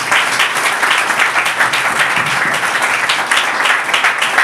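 A church congregation claps loudly for fathers on Father's Day, a close, steady wash of dense applause lasting throughout with no talk over it.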